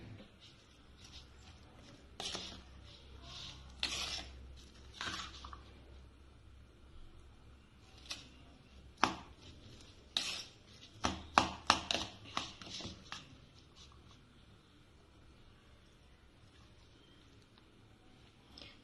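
Sliced cheese, onion, tomato and capsicum being mixed together for a sandwich: scattered soft taps, squishes and utensil clicks, quiet and irregular, with a faint low hum beneath.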